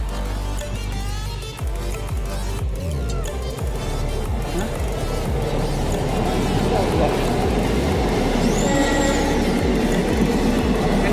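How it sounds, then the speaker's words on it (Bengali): A train rolls into a platform with a heavy rumble and wheel clatter, a brief squeal near the end, while people talk nearby. "এই যে ট্রেনটা প্ল্যাটফর্মে ঢুকছে"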